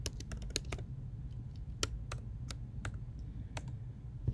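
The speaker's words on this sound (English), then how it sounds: "if you type out vardump, put the variable name in" Rapid clicking of a computer keyboard as PHP code is typed, with irregular bursts of sharp keystrokes close to the microphone over a low steady background hum.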